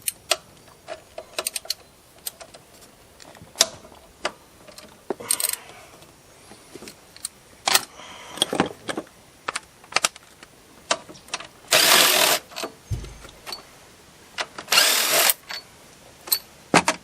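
A Snap-on power tool works a bolt on the alternator of a 6.0 Ford F350 truck, with scattered clicks and taps, then two loud sustained bursts of tool noise close by.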